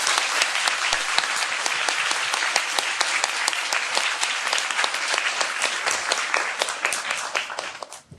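A lecture-hall audience breaks into sustained applause, many hands clapping together in a dense, even wash that holds steady and then tapers off at the end.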